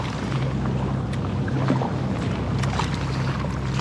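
Solo paddling in an Itiwit X500 kayak on open water around Stockholm, with a steady wash of water and light wind noise running throughout and faint splashes of the paddle strokes, no talking.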